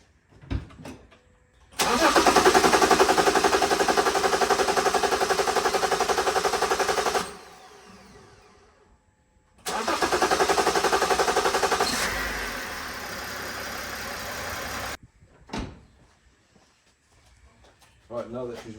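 A BMW E90 330d diesel with a wet, oil-leaking sump cranks and fires up close by, runs loudly for about five seconds, cuts out, then restarts and runs again before stopping, with brief knocks in between.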